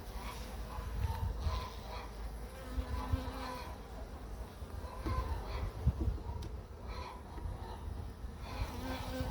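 Honey bees buzz steadily around a Farrar hive frame during a brood inspection, a dense close insect drone with individual bees flitting past, plus faint handling noises.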